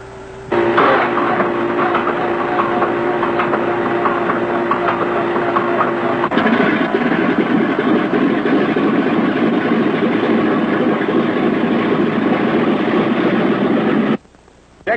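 Aircraft piston engine with a starter cranking and then firing up into a steady, loud running drone that holds for most of the stretch before cutting off abruptly near the end.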